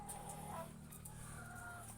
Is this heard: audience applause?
no